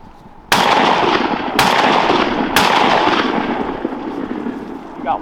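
Three loud shotgun blasts ring out during a duck hunt outdoors, each a sharp crack with a long fading tail, evenly spaced about a second apart, with faint voices in the background.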